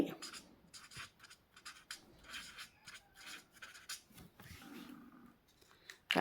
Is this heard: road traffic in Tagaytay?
no